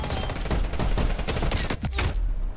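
A sentry turret in Call of Duty Black Ops Cold War fires a sustained, loud stream of rapid automatic shots that stops abruptly at the end.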